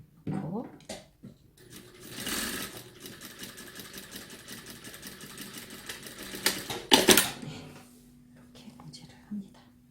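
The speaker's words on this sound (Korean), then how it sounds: "이렇게 봉제를 합니다." A sewing machine stitches a size 3 nylon zipper onto a pair of pants, running in a fast, steady mechanical chatter with brief pauses, while a person talks quietly over it.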